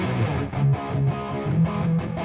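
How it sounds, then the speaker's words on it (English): Distortion effect from a Plugin Alliance VST plugin on a buzzy, gritty synth-like tone with pulsing swells, loud and alone. "Cool distortion, right?"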